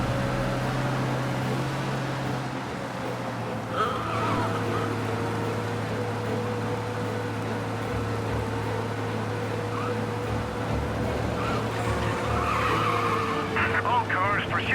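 In the video game Mafia: Definitive Edition, a car engine drones steadily and fast during a police chase, with tires skidding now and then, all under a continuous mechanical hum.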